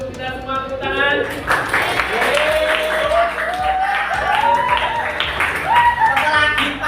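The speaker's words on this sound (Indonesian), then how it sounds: "tepuk tangan" Clapping during a school lesson for teachers, a burst of close handclaps under a speaking voice that carries on talking throughout the several-second stretch.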